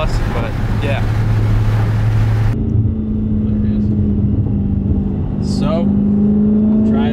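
A Dodge Challenger SRT 392 engine drones steadily while driving through canyons in light rain, a loud constant cabin hum with a brief spoken word early on.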